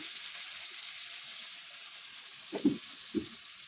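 Katla fish and spices frying in a pan as water goes in, a steady high sizzle throughout with two short splashy bursts near the end.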